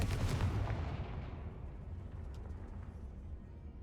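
A Confringo blasting spell in Hogwarts Legacy explodes with a sharp, booming burst at the start that decays into a long rumbling tail, with no speech over it.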